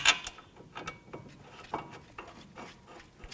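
A ratchet snugs down brake caliper bracket bolts on a 2006-2012 Toyota RAV4, giving a series of quiet, close, irregular clicks and mechanical rubbing.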